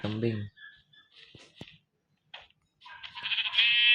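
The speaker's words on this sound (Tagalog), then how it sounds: "May kambing." Goat bleats from Minecraft with mods come in short wavering cries, scattered and then stronger toward the end, mixed with a person's brief talk and small clicks.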